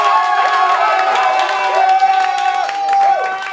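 A studio audience cheers and shouts in a sustained, lively burst during a French talk show's vote between peach and lemon, with voices whooping over scattered clapping throughout.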